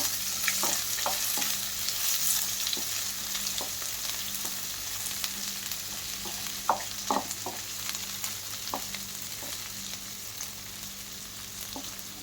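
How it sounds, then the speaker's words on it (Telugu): Chopped onion pieces frying in a pan, a steady soft sizzle with scattered clinks and scrapes of stirring throughout, fairly close and alone. "ఉల్లిపాయలను ముక్కలను ఇందులో వేయాలి. వీటిని కొంచెం వేగనివ్వాలి."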